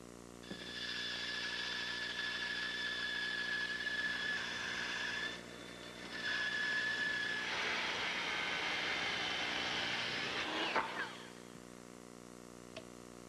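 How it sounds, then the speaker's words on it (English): A bandsaw cuts paired, fastened plywood rafter pieces for a hexagonal gazebo, a steady whining motor with two long passes of blade rasping through wood, the second growing louder before stopping, close and clear. "With them fastened together in pairs, I'll perfect the cut at the bandsaw."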